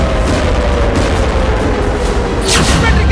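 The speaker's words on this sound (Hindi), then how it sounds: "आर्टिलरी गन्स की फायरिंग मेरे पीछे ठीक शुरू हो गई है" An Israeli artillery gun fires near Gaza, a loud rumbling boom over heavy continuous low-frequency noise and roar, with a sharp blast near the end, heard from close by outdoors.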